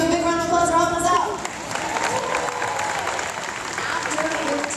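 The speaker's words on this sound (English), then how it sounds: "Give a big round of applause for helping us out." At a live stunt show, an audience gives a volunteer a loud burst of applause with some cheering. A voice speaks over the crowd at the start, then the clapping carries on as a steady roar.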